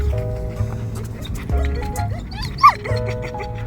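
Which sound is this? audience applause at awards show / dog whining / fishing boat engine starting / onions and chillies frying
dog whining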